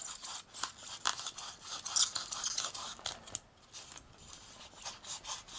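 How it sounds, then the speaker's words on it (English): An X-Acto knife cuts out a shape for a mixed media key plaque, making quiet, close rasping scrapes in short, uneven strokes with brief pauses between them. "So basically, I'm just going to use my X-Acto knife"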